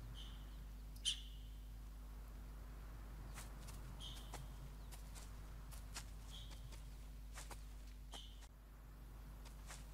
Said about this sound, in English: that's the chirping sound. You can hear it all around me now. And that's the sound the ibex make when they're spooked and when they're nervous